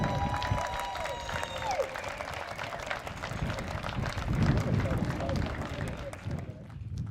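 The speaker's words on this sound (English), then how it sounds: "big round of applause" A large crowd applauds and cheers at an outdoor Donate Life Run Walk ceremony, dense sustained clapping with a few voices over it, steady and moderately close throughout.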